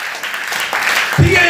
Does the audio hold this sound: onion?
no